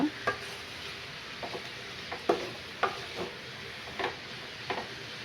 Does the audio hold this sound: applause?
no